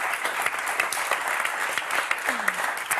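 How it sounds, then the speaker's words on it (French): A French game show studio audience gives loud, lively applause, a thick, even roar of clapping that holds steady for three seconds. "Un tonnerre d'applaudissements pour Anne-Marie"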